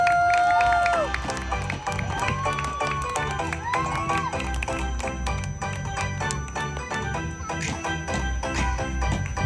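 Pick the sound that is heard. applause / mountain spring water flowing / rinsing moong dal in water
applause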